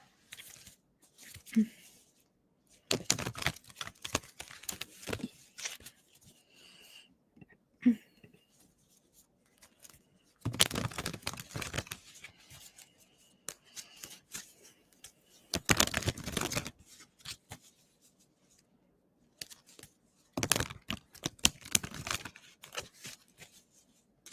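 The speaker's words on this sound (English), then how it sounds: "All right, Amy, let me shuffle for you." A deck of tarot cards is shuffled up close in four or five crisp, rustling bursts of a few seconds each, separated by quiet pauses, with no talking.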